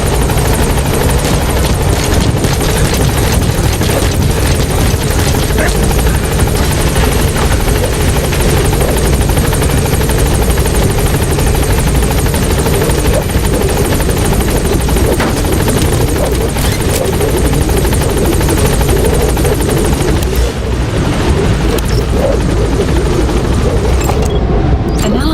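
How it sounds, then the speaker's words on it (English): Support helicopter arriving in Metal Gear Solid V: a loud, close, steady rotor thrum and turbine whine dominating throughout, continuous rhythmic chopping with a slight change near the end. "Support helicopter has arrived."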